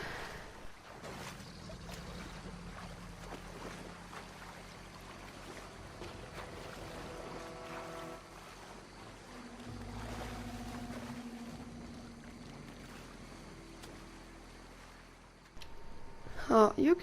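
Boat gliding across swamp water in Red Dead Redemption 2, a steady low engine and water wash running throughout with ambient game sounds, ending in a louder burst of activity.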